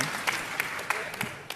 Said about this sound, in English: most of that applause was for you.